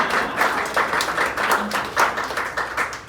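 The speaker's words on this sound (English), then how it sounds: "It's a slow clap, but I'll take it." An audience gives a slow clap, steady and moderately loud, filling the room with continuous hand-clapping at a measured pace.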